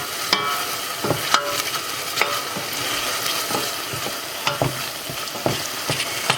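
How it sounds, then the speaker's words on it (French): Cooked onions stirred in a pot for chicken mafé with a little tomato, a soft sizzle under repeated scraping strokes of a spoon, fairly close with no talk. "je vais juste remuer"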